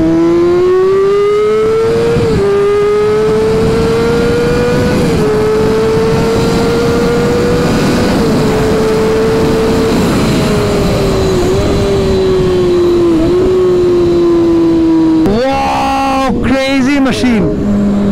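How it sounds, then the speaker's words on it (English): Loud, sustained engine drone from a Kawasaki ZX-6R inline-four motorcycle at a rev event in Guwahati, its pitch rising and falling through long revs, ending in a burst of sharp revving; voices talk underneath. "the exhaust note of this raw inline 4 is so beautiful"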